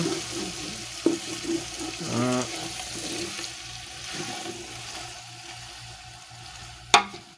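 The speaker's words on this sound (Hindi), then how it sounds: "इसके ऊपर अभी हम डालेंगे टमाटर" Chopped tomatoes sizzle and fry in a pot over cooked chicken for biryani, with a steady crackling hiss, a few stirring clatters, and a sharp knock near the end.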